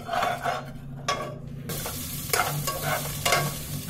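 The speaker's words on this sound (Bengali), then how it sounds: "কাজু কিশমিশ আর আদাটা আর মানে গোটা গরম মশলা দিয়ে আমি একটু ভেজে নিলাম।" Cashews, raisins, ginger and whole spices frying in a pan for pulao, with steady sizzling and a few louder stirring bursts as they are tossed, close and alone with no talking.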